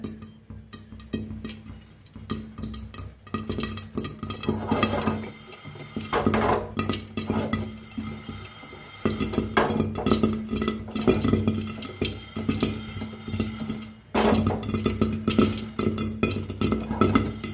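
A pan of popcorn being roasted is shaken steadily on the stove, with continuous rattling and scraping of kernels against metal, close and moderately loud, with brief pauses before the shaking resumes.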